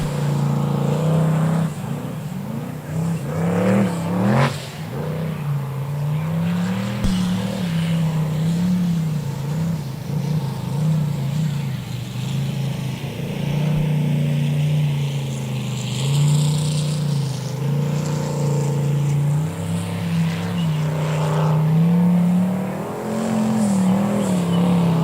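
Racing powerboat engine with whistling turbos during a pro boat race, a continuous loud droning roar that rises and falls in pitch as the boat runs, with no talking.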